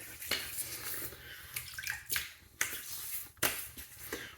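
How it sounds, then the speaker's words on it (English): Water splashes in a sink as a face is wetted before a shave, several separate splashes and slaps at a steady pace, fairly quiet and close by, with no speech. "I'm gonna wet the face"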